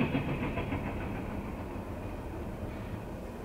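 The CSX Q367 freight train, with covered hoppers, gondolas and a boxcar, rolls past in the snow as a steady, even rumble of wheels and railcars that holds at one level throughout.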